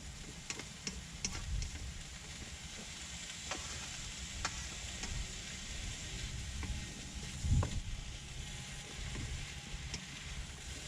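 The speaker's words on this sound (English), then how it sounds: "it's staying sizzling like this, it's got the heat in it" Steady stir-fry sizzle in a pan on a Trangia 27 camping stove, with crackles and small pops throughout, close by and fairly loud, with occasional clinks of a utensil.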